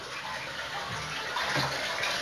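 A household toilet flushes after a diaper is thrown in, a steady close rush of gushing water filling the whole moment without voices.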